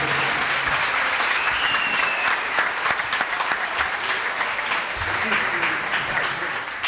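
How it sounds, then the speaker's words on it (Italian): A theatre audience claps steadily and densely after a sung hymn, a full, even wash of applause that lasts throughout with no clear voices above it. "Bravi, bravissimi, ancora un applauso."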